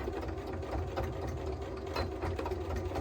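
A home sewing machine runs steadily while stitching fabric forward and then backstitching, giving a close, continuous mechanical whir with a faint rhythmic needle pulse throughout.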